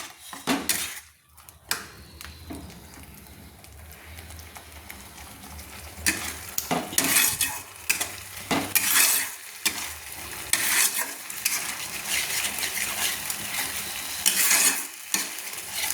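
Spice paste being stir-fried in a pan for Bengali rui posto sizzles steadily while a utensil repeatedly scrapes and knocks against the pan in irregular bursts, close and fairly loud, with no talking.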